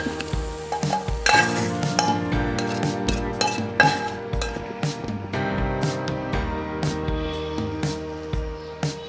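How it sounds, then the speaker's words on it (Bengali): Food cooking in a pan on a stove is stirred, with a steady sizzle under frequent metallic scrapes and clinks of the utensil against the pan, close and fairly loud, with no talk. "আমি একটু নাড়াচাড়া করবো।"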